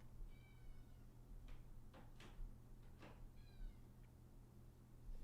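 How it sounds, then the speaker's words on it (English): A house cat waiting outside to be let in meows faintly twice, with a few soft knocks or taps between the meows, heard quietly with no talking. "Oh, let me let my cat in."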